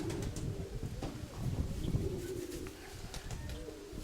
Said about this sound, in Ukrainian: Нема в мене Миколиних голубів